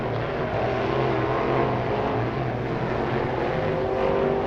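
A Crate Race USA Modified Sportsman race car from Kingston, Georgia rolls out onto a dirt short track at Talladega for Ice Bowl hot lap qualifying, its engine a steady loud drone throughout with no clear revving.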